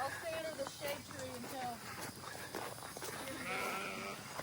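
Several sheep bleat on a farm, wavering calls repeating close by in quick succession, with people talking over them and shade-tree farmyard ambience behind.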